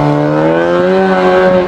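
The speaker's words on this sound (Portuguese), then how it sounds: "Ó a moto. A bicha acelerando." A motorcycle on a street in Ceilândia revs and accelerates nearby, its steady engine drone climbing in pitch and filling the whole stretch with a loud, continuous roar.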